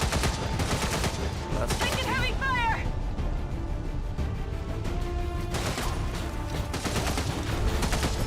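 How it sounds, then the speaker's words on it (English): Heavy gunfire in XCOM 2 erupts in dense bursts and rattling volleys, loud and close, with whizzing shots and a lull before more firing resumes under a voice. "Taking heavy fire."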